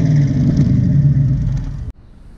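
A 1968 Camaro's 383 stroker small-block V8 rumbles loud and close at a steady idle with slight revving, then cuts off abruptly, leaving near silence.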